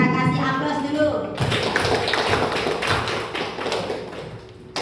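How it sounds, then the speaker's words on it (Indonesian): Classroom applause breaks out after a short stretch of talking, with many hands clapping in a dense, steady patter that slowly fades over several seconds. "kita kasih aplaus dulu"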